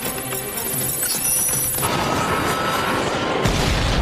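A film explosion sets off a loud, sustained roar that swells and crashes, with a heavy burst near the end and no speech over it.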